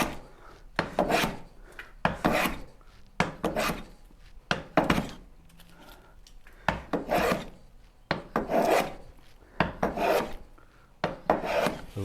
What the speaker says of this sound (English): then just start planing all the sides until it's a nice side like this